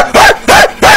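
A man imitates a dog with loud, close vocal barks, three sharp woof-like calls in quick rhythm, each with a falling pitched tone, during a livestream.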